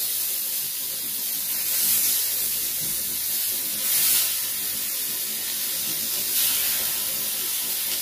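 Fish fries in a little oil on a flat pan, giving a steady close sizzling hiss that swells slightly a few times and keeps going without a break.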